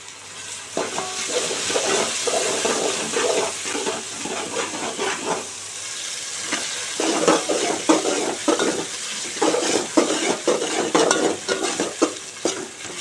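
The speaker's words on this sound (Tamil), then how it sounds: "தக்காளி நல்லா வதங்கட்டும்." Tomatoes sautéing in a pan for mutton biryani, cooked right after ginger-garlic, give a steady loud sizzle with repeated scraping stir strokes throughout, and no voices.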